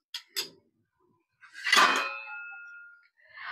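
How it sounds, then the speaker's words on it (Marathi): Half a spoon of mustard seeds is tipped into a heated kadhai for Maharashtrian garlic chutney: two quick metallic spoon taps, then a brief ringing clatter and crackle as the seeds hit the hot metal. "राय टाकायचे."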